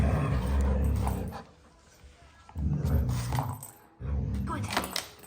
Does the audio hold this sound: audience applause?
no